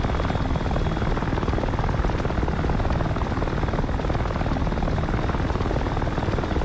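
Steady, dense rotor-and-engine drone of a Russian aircraft in a combat video game, loud and unbroken throughout with no voices.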